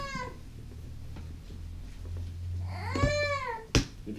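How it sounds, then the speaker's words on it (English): A four-month-old baby cries faintly in the background indoors, giving a short wavering wail near the end over a low steady hum. "If you can hear that crying in the background"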